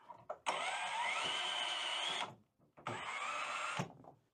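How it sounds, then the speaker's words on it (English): Power drill boring holes into the metal roof of a 2021 VW Crafter MWB van while a MaxxAir Fan Deluxe is fitted, two loud whirring bursts close by with a short pause between them. "Now I'm just going to drill in those couple of holes"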